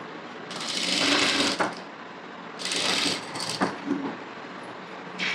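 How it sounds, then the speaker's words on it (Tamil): Sewing machine stitching along the edges of a blouse, with two long bursts of rapid mechanical whirring separated by pauses and light clicks, close and fairly loud. "இப்போ நம்ம ஃபுல்லாக ஓரத்துலலாம் நான் ஸ்டிச் பண்ணுறேன்"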